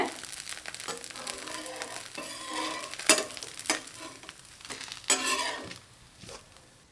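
Rava dosa frying on a hot pan, a steady sizzle with intermittent scraping and metallic clinks of a spatula working the batter, close and moderately loud.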